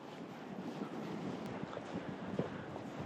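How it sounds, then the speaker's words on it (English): Waves surging onto a beach in Iceland with gusting wind buffeting the microphone, a steady broadband rush with occasional louder breaking swells, no voices. "you can hear the waves starting to compete for our attention"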